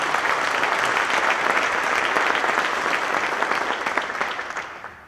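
Sustained applause from a memorial service audience following a musical performance, a dense steady wash of many hands clapping that fades slightly toward the end.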